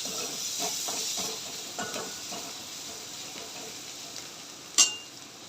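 A spoon stirs leftover rice with masala in a hot pan, a steady sizzling hiss with soft scraping strokes and one sharp clink near the end, no voices.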